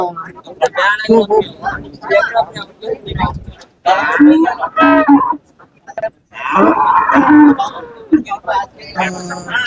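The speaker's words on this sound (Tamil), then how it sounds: "ஹெச்எப் ஜெர்சி கிராஸ்ல சொல்ற ஒரு அஞ்சு மாடு இருக்கு" HF Jersey cross cattle mooing at the Seenapuram cattle market: loud, close, drawn-out moos alternating with someone talking, with brief pauses between calls.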